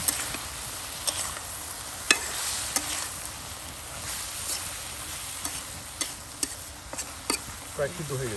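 Taki fish simmering with cumin in oil in a pan over a village cooking fire: a steady soft hiss and bubbling with scattered faint ticks and clinks throughout, no voices.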